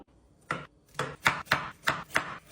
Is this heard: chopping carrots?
yes